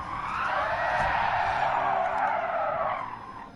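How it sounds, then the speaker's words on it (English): Tyres skid and screech continuously as a car spins donuts in GT Sport, the engine roaring beneath a loud, sustained squeal that rises and fades slightly at the end. "Hear my engine roar."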